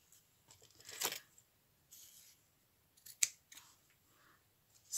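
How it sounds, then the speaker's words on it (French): Scissors snip through ribbon being cut for ties on a handmade stationery set, a few quiet separate cuts with pauses between them, close and soft, with no talking. "Là, je viens découper un peu de ruban pour faire nos attaches."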